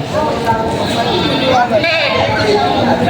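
Goats bleat repeatedly amid a noisy crowd of voices at a goat market in Padre Garcia, Batangas, the animal calls wavering and close over constant background chatter.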